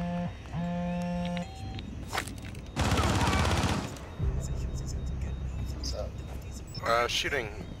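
Rainbow Six Siege firefight on a hostage map: a loud, sustained burst of automatic gunfire tears through the middle. Electronic beeps come before it, scattered game noises follow, and voices talk around it.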